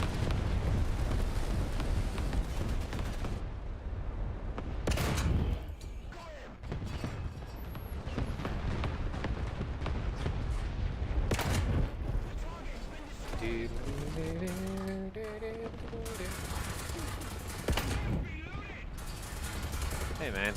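Tank battle in the War Thunder video game, with bursts of heavy gunfire and booming explosions over a rumbling background, loud and close, while someone talks intermittently over the combat.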